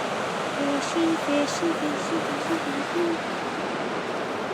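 A waterfall near a village roars as a broad, steady wash of rushing water, loud and constant throughout, with faint birdsong chirps above it.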